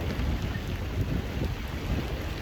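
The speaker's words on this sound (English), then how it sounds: "Here comes the wind and rain." Steady wind and rain roar close in throughout, a dense broadband wash with low rumbling gusts, heard outdoors on the water while fishing the Crooked River.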